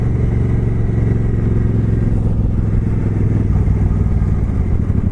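A motorcycle ridden along a road at night gives a loud, steady engine drone with road and wind noise that runs unbroken from start to finish.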